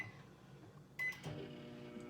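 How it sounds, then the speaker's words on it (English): A microwave oven melting butter beeps as its buttons are pressed, then settles into a low, steady hum as it runs, quiet and close by. "up in my microwave up here, I have my butter, so we're gonna melt it"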